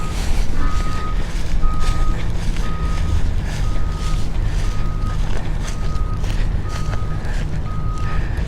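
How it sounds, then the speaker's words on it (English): Trucks at a port berth entrance idle and rumble under steady wind noise, with a vehicle's reversing alarm beeping at an even pace throughout. "Looking down there, and you can see the trucks."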